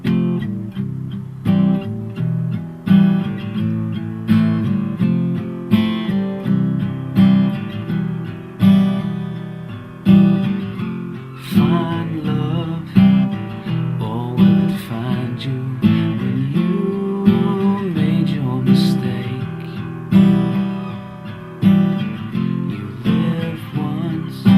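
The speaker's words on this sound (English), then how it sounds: "when you play this in the intro, it's all going to be just down strums" An acoustic guitar plays the intro with steady down strums, a full, meaty chordal sound with regular rhythmic attacks running throughout, close and alone without talk.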